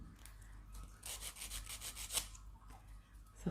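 A hand file rasps against a cured resin piece for a DIY Christmas gift, a faint, close run of scratchy back-and-forth strokes over about two seconds, then quieter handling.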